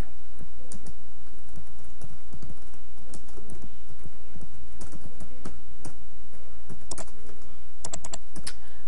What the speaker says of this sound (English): I'm going to type just like you would in a Word doc